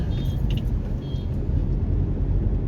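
Road traffic along the route to an airport, a steady low engine rumble with a couple of short, faint high tones near the start, no one speaking.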